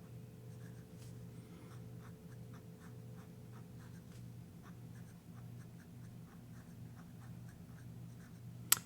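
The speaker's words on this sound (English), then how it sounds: "Can y'all hear the paper when I write?" Crisp nib scratching across textured bank paper, a steady run of soft, close strokes with a faint low hum beneath and a sharp click at the very end.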